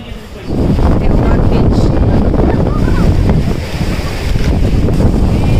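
Ocean surf and strong wind at Devbag–Tarkarli beach near Malvan, a loud continuous roar of breaking waves with heavy wind buffeting the microphone throughout.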